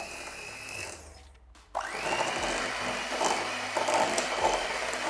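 An electric mixer churns Oreo cupcake batter with a steady whirring drone that stops briefly, then starts again at higher speed and runs on continuously at moderate volume.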